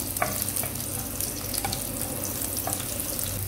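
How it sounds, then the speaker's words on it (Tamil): Crushed garlic and a green chili sauté in hot oil for smoked eggplant gravy, giving a steady close sizzle with a few soft knocks of stirring. "இது நல்லா எண்ணெயில் வதங்கட்டும்"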